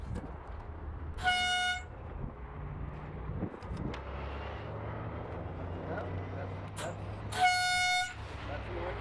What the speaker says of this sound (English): You're pretty sure that's an actual Ferrari horn, huh?